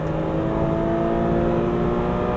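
A Porsche Cayman R engine accelerating on a track-driving course drones and revs steadily, a loud continuous roar that holds throughout with a faint whir.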